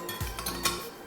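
A Saladmaster food processor cone is slotted into place, giving a short run of light metallic clicks and clinks, close and fairly quiet, with no talking.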